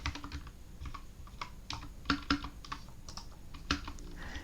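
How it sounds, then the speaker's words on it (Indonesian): Typing on a computer keyboard: quiet, irregular clusters of key taps and clicks at close range, with short pauses between bursts. "sambil pertanyaannya diketik aja"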